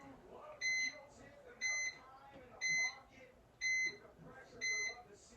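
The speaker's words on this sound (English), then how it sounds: "That's my timer." A kitchen timer beeps in five evenly spaced bursts of rapid high electronic tones, moderately loud over soft room noise and faint background voices while lavender soap is being made.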